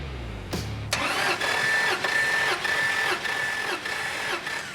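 A 1973 Plymouth Road Runner engine cranks on the starter during a compression test, a loud rhythmic whirring chug in regular pulses after a brief click, close by with no talk.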